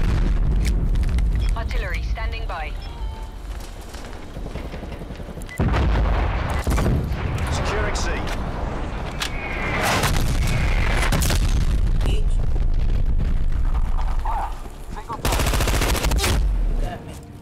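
Artillery bombardment in Call of Duty Black Ops Cold War multiplayer: dense, loud gunfire and heavy booming blasts, with sharp strikes around the middle and a big late impact, under in-game radio voices and talk.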